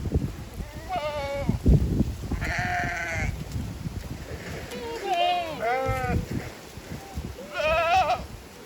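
Young goats bleat repeatedly, several short wavering cries in turn, close by, while someone talks over them during a deworming session.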